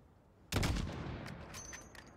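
A single sniper rifle shot in the video game Call of Duty: Modern Warfare, one sharp loud crack after a quiet moment, followed by a rolling echo that tails away.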